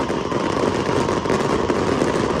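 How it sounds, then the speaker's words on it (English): Howling Wolf fireworks burst in a dense, continuous crackling roar, loud and sustained throughout, with no voices. "Howling Wolf Fireworks."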